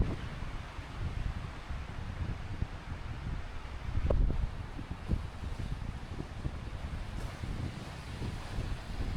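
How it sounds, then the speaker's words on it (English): Strong gusty wind buffets the microphone, roaring and rumbling in uneven bursts, louder for a moment midway through. "This is incredibly windy."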